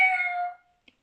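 A single short, high-pitched meow made by a human voice imitating a kitten, followed by a tiny click.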